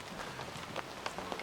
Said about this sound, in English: it's still raining now.